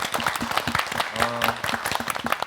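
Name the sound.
applause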